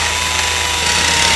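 Continuous, close power tool whine and grinding during a small renovation job, a steady unbroken buzz with no talk over it.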